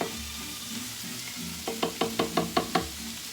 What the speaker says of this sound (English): So just let that simmer.